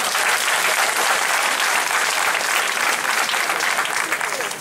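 Sustained audience applause fills the room at a ceremony, dense and even throughout, with no pause.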